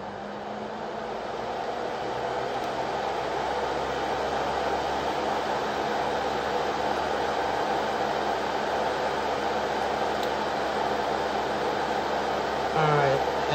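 A Belle nail dust collector runs on its low setting, a steady, even whir of fan and airflow that holds constant throughout, with a faint low hum underneath.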